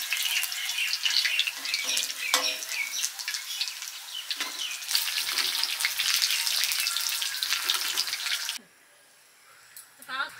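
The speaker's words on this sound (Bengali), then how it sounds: "পকোড়া ভাজা হয়ে গেছে।" Pakoras frying in hot oil, a bright, crackling sizzle heard close and continuous for most of the time before it drops away suddenly near the end.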